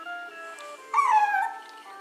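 A dog whimpers and whines indoors, a soft high whine rising into a louder wavering cry for about half a second before settling, heard close and fairly quiet.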